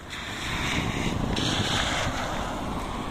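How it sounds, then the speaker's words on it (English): Rainwater from a storm runs through a drainage gully in front of a house into the pipe under the driveway, a loud, continuous rushing wash with wind buffeting the microphone. "And there's the water going in, down to the pipe underneath the drive."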